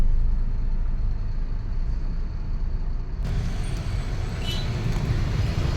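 Dense road traffic in Hosur rumbles through an open car window as a loud, constant roar of engines and tyres, with a brighter hiss of passing vehicles.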